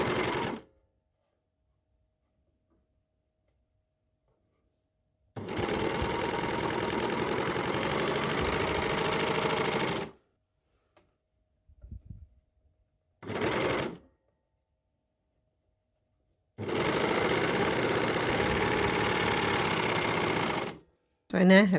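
Overlocker serger stitching T-shirt fabric into small tubes, running in fast whirring bursts of a few seconds each with silent pauses between, plus a short low rustle of handling in one gap.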